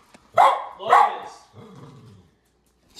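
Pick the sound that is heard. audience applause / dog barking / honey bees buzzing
dog barking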